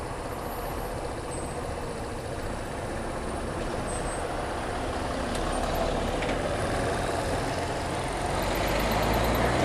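A city bus rumbles in slow traffic, a steady heavy engine drone with a brief air-brake hiss, the noise growing slightly louder toward the end with no talking.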